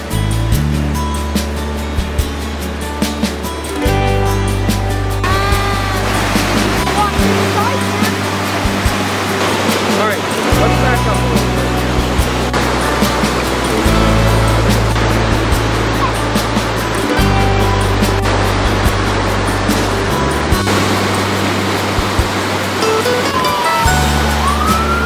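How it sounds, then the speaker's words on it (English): Fast-moving floodwater after a record-breaking storm rushes in a constant loud roar over a flooded field, with heavier low surges rising and falling. "Look at how fast this water is moving through here."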